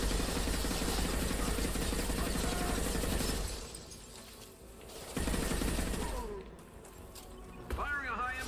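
Sustained automatic gunfire crackles loudly in a Mass Effect 2 combat encounter, a dense rattling barrage that drops away briefly and then resumes, with voices talking over the fighting.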